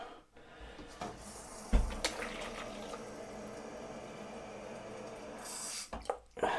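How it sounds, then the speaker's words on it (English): Water poured into a Ninja Foodi Possible Cooker, a steady wet splashing wash at close range with a sharp knock early on, a brief break near the end, then the flow resuming. "I think I will add a little bit more water"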